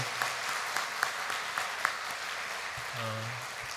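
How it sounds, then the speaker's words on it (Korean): A church congregation gives a round of thankful applause during a Sunday worship service, steady dense clapping filling the room at moderate level, with a brief voice near the end. "우리 감사 박수 한번 합시다"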